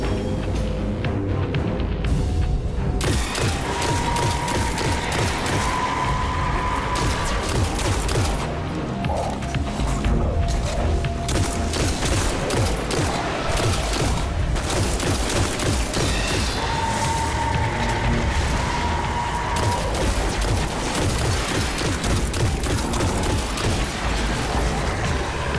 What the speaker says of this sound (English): Scout rifle.